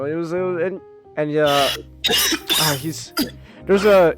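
A man coughs several times in harsh, rough bursts between short stretches of speech, close and loud.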